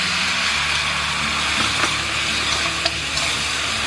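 Sauce poured into a hot wok of stir-fried pork ribs with spices sizzles steadily and loudly up close, with faint scraping and a couple of small knocks of stirring.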